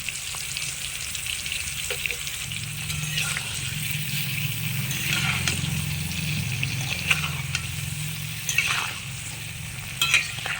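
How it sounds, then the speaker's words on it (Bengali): Eggplant frying in mustard oil sizzles steadily while a spoon stirs it, sending scrapes and soft clacks through the hiss at close range, with no voices. "বেগুনগুলো ভাজার সময় আস্তে আস্তে নাড়তে হবে"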